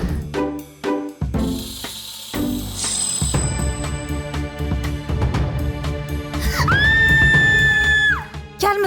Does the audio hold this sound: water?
no